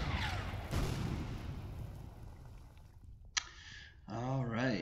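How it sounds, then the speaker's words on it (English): Artillery fire strikes a garrison in the WWII strategy game Order of Battle: Blitzkrieg, with a noisy rumbling barrage followed by a sharp crack, then someone talking at the end. "I'm going to hit this garrison with another dose of artillery"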